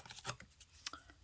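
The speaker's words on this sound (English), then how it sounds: "Now, I don't want to cut it. I want to rip it." Paper is torn by hand while embellishing a grungy journal, a few short ripping bursts close to the listener with quiet rustling gaps between them.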